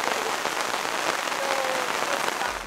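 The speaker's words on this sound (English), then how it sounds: "It is pouring rain." Heavy rain pours steadily at a lakeside campsite, a dense, loud, continuous hiss of drops drumming on surfaces with no break and no voices.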